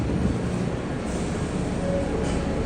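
Manhattan-bound L subway train in New York, a loud steady rumble of the car in motion filling the whole stretch with continuous roar and faint high squeal, no voices over it.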